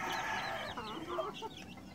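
A dwarf chick clucks in a soft, rapid series of small chirps, close but faint, with no voices over it.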